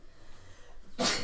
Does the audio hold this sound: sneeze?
yes